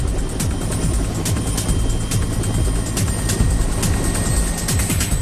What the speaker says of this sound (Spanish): Desde un helicóptero llevaron el extremo del cable desde el anclaje a la primera torre.